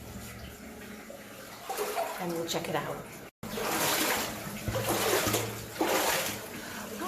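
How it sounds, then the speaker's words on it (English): Water churns and splashes through a flooded section of a 1600s lead mine, a steady rushing wash that swells louder midway, with someone talking over it. "The water is just churning right down and disappearing somewhere under the ground."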